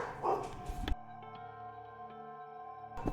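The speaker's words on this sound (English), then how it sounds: "Oh, dogs." A short burst of dog barking in Danganronpa: Trigger Happy Havoc, a few quick yaps at moderate volume, gives way to a quiet sustained musical tone.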